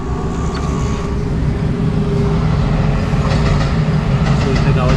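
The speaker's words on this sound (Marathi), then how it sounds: "इथे आपली ट्रेन आली बघा." A train rolls past close to a house, a continuous heavy rumble with rattling, clattering wheels throughout and faint voices in the background.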